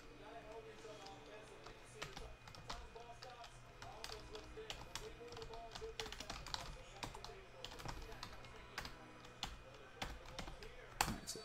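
Rapid clacking keystrokes on a computer keyboard, quiet and close, in irregular bursts throughout, with someone talking at times.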